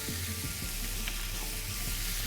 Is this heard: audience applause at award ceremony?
no